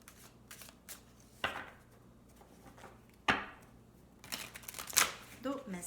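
Oracle cards from a Mystic Moon deck being shuffled by hand, with several sharp riffling snaps and soft papery shuffles, close and fairly quiet.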